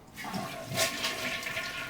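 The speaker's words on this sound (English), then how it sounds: "You heard the toilet flush." A toilet flushing after a tank repair, with a close, full rush of water that rises and holds steady for a couple of seconds.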